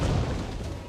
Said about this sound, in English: The explosions! Get inside!